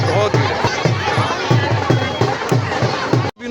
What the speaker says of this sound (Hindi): कितनी भीड़ कर रखी है, बहुत भीड़ है